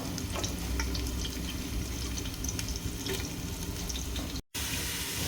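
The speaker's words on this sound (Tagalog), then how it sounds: "medyo napiprito na yung aking ginger" Steady, dense sizzling of ginger frying in hot oil in a tall pot, loud and close, crackling continuously with a brief dropout near the end.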